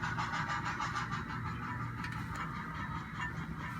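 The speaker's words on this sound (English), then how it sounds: "what you're hearing is the drivers thumping while it's slowing down" A slowing locomotive at a train museum gives a steady, loud rumbling thump from its driving wheels as power comes off, with a broad mechanical roar running continuously throughout.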